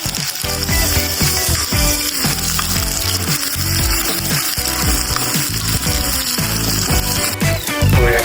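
Onions and spices fry in hot oil in a kadai, giving a dense, steady sizzle with crackling pops and scraping clatter throughout.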